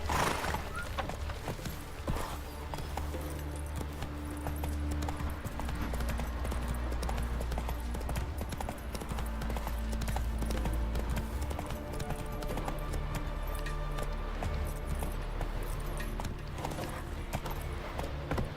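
Horse galloping in the video game The Witcher 3, with steady rapid hoof clip-clops and occasional whinnies carried over a continuous game soundscape, loud and close throughout.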